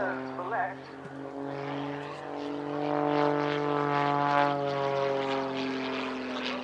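A propeller aerobatic plane performing snap rolls and a yawing turn at the Cosford Air Show, a droning, shifting engine note that swells and wavers in pitch across the pass, moderately distant and continuous.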